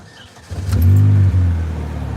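A husband's manual stick-shift car is moved by an inexperienced driver; the engine catches and revs up loudly, holding a steady close drone with a brief dip, alone without talk.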